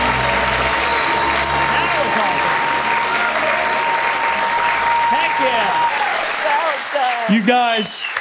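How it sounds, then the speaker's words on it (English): Loud applause and cheering from a live studio audience at a Chicago talk-show taping right after a debt-free countdown, sustained and dense, with voices rising through the clapping toward the end. "You guys, so fantastic. We applaud you."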